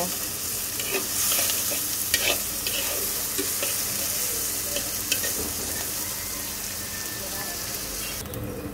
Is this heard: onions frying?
yes